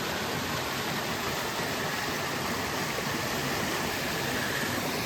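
Constant broadband rush of falling water, a steady roaring waterfall nearby at Comer's Creek Falls on the Appalachian Trail, pouring into a pool, with no breaks or voices.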